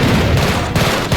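Enemy gunfire in the shooter game Arc Raiders, a dense loud burst of rapid shots with booming low end, close and continuous over about a second, no talk.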